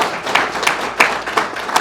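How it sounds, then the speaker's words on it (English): Scattered audience clapping at a press conference introducing a new coaching staff, a few sharp claps standing out from a thin, steady patter over about two seconds. "So please give them a round of applause."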